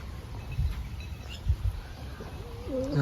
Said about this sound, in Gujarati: કબૂતર બેઠા છે આવી રીતના ઉપર.